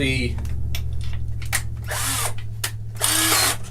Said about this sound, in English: Come on, cooperate, drill.